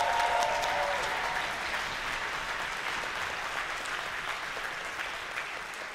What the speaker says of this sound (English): and their director, Don McGee, another round of applause for an amazing performance?